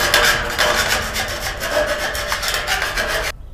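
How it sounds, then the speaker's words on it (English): Steady rasping of a file over the cut ends of metal studs, used to repurpose an old wood shade cover in a garden; close, continuous scraping strokes that run for a few seconds and then stop abruptly. "All that's left, we cut those ends off, is to file those down."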